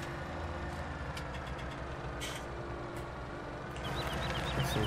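A new tractor's engine runs steadily while driving out to the fields, a constant low rumble with a slight rise in level near the end and no talk.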